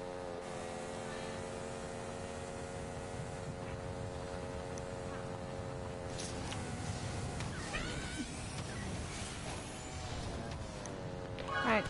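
A cat meows in drawn-out, wavering calls over a steady background hum, close and fairly quiet, with a person talking at times.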